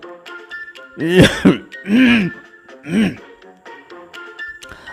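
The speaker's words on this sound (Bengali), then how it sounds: "কেশে গলা সাফ করে নিয়ে" Someone clears their throat in three rough, coughing bursts, close and fairly loud, with quiet pauses between.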